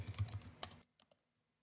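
Typing on a computer keyboard: a quick run of close, crisp key clicks, then a few sparse taps trailing into silence.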